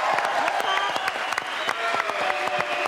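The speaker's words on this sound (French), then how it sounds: "car elle est là, mesdames, messieurs, applaudissements." Studio audience applause on a French television variety show, a dense steady wash of many hands clapping with scattered cheers, loud and continuous throughout.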